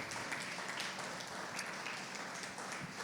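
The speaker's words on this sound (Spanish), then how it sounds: "Dale un aplauso fuerte a Dios" Quiet, distant applause from a church congregation clapping for God, a continuous dense patter of hands that holds evenly throughout without any voices on top.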